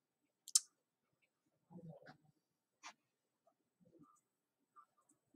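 Several sharp, isolated clicks from a computer mouse, spaced irregularly across a quiet background, with a few soft muffled knocks in between.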